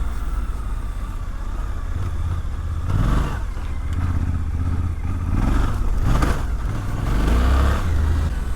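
A Suzuki V-Strom 800DE adventure motorcycle ridden off-road, its engine droning steadily close by with a few surges of revving and rough, clattering bumps from the track, with no talking.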